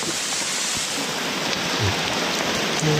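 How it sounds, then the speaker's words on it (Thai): Steady rain falls in a broad, even hiss throughout, loud and close, with no voices. "ฝนตกครับ"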